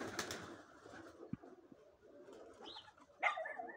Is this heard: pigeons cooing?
yes